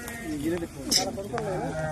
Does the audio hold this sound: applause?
no